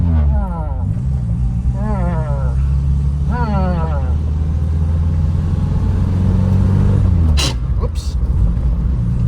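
A vintage car pulls away after a cold start: rising gearbox whine sweeps up through three shifts over a rasping exhaust rumble. Loud and close, followed by a couple of sharp clunks near the end.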